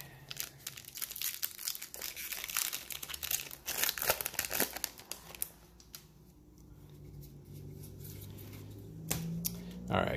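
A Magic: The Gathering Modern Horizons 2 booster pack wrapper being torn open and handled, close crinkling and crumpling foil with sharp tearing bursts, then softer rustling.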